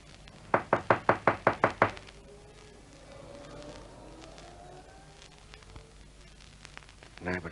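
Seven quick, loud knocks rap on a front door in a steady burst, followed by quiet with faint background murmur.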